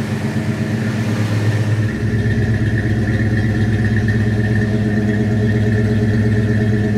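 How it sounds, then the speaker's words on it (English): A 1966 Ford Fairlane GTA convertible's 390 V8 idles steadily with a deep, rumbling exhaust note, constant and close by for the whole stretch, with no voices. "Let's go around and listen to the exhaust."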